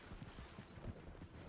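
Horse hooves clip-clop along a road in Red Dead, a quiet rhythmic series of hoof strikes heard faintly at a moderate distance.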